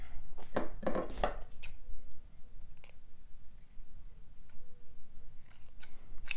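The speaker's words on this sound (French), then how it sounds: "J'essaie de ne pas faire trop de bruit avec les ciseaux." Quick snips of scissors cutting, a dense cluster early on followed by a few isolated snips, close by in a quiet room.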